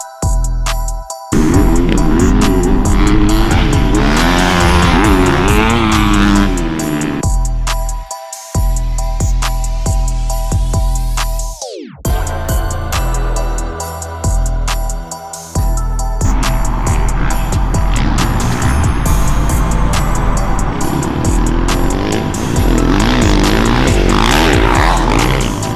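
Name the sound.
dirt bikes riding past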